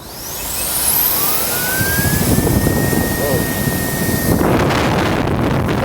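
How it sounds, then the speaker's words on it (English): Compressed air duster with a brushless motor at 150,000 RPM spins up with a rising high whine into a loud steady rushing blast of air, close to the microphone, then cuts off near the end. "All right, so let's turn it on for the first time. I turned off noise cancellation just so you guys can hear it."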